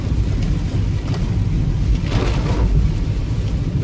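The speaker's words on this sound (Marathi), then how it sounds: "पाऊस असा एकदम जोरदार आहे ना, एकदम मस्तच आहे" Heavy monsoon rain pours steadily in a Konkan village, a dense, loud, continuous wash of noise with a deep rumbling low end and no voices.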